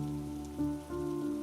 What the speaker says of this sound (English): listening to the pitter-patter of the rain